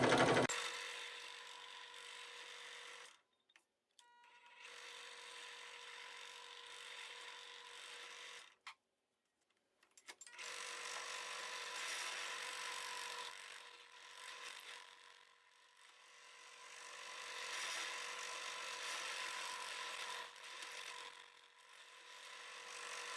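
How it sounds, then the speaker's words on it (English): A drill bores holes straight down into maple for a hand plane tote, grinding steadily in long close runs broken by brief stops, with no talking. "I'm just gonna drill straight down."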